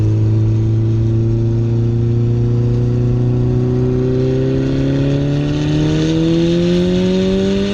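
Honda Civic with boost pulling hard in third gear, engine note climbing steadily in pitch as it accelerates, loud and close with no talking.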